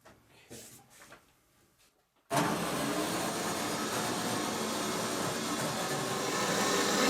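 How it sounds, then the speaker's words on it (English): A sandblaster hisses steadily as it blasts model railroad parts, starting abruptly after a quiet stretch of faint handling noises and then running loud and unbroken to the end. "Now we're going to give the parts a few more licks with the blaster also."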